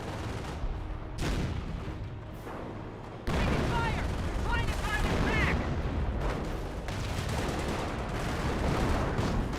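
British artillery fire in Company of Heroes, heavy booms and bursts of gunfire crowding a chaotic battlefield, with a voice speaking over the loud, continuous combat.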